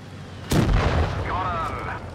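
Single booming tank cannon shot in the video game World of Tanks Blitz, a sudden loud blast with a rumbling tail, followed by a faint whistling tone as the round carries on.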